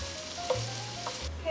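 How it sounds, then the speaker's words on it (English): Onions and celery sauté in a soup pot, a steady low sizzle with a few soft stirring scrapes over a faint hum, close and even throughout. "my onions and celery have been going almost 5 minutes"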